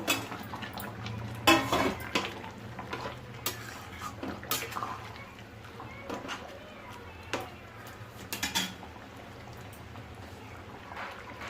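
In a home kitchen, a lid clanks onto a cooking pot and paneer is added, giving scattered metallic clinks and knocks of pots and utensils over a quiet low hum. Clatters are sharpest early, then thin out.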